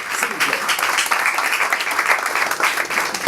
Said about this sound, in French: je voudrais vous demander de bien vouloir applaudir M.